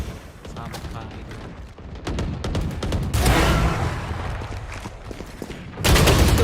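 Gunfire in Valorant cracks out in rapid repeated shots and bursts, loud and close, with louder volleys toward the middle and end.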